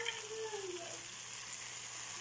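Swimming crab (alimasag) for ginataang crab is dropped into a hot pan and sizzles with a loud, steady, broadband frying hiss that holds for the whole stretch with no talking.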